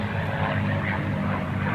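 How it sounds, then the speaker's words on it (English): P-51 Mustang warbird flying a Cuban 8 at an airshow, a steady, moderately loud propeller-engine drone heard from a distance without a break for the whole short stretch. "And now he'll perform the Cuban 8 maneuver in the P-51 Mustang."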